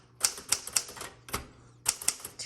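A 1960s Smith-Corona Galaxie II manual typewriter being typed on, with sharp, close key strikes in quick clusters of three and a heavier thump between them, played alone without voices.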